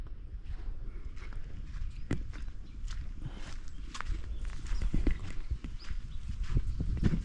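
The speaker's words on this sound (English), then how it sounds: "Imagine, this cow wants to pass through there." A cow walks past in a rural African village setting, its hooves thudding and scuffing in an irregular rhythm close by, with rustling and knocking mixed in and no talk.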